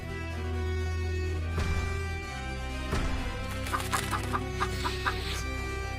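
Chicken clucking in an animated Jack and the Beanstalk fairy tale: a run of short, bright clucks near the middle to the end, set against steady background music.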